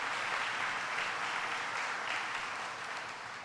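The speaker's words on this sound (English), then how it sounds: "Let's give him a round of applause." Howard Zemsky gets a round of applause from an outdoor crowd in Erie County on a lightly rainy day, with steady, fairly distant clapping that tapers off slightly toward the end.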